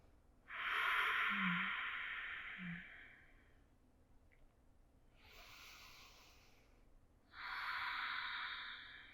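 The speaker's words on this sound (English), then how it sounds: "3 breaths here to recenter" Slow, deep yoga breaths, two long airy exhales about three seconds each with a quieter breath between, close and soft with no talking.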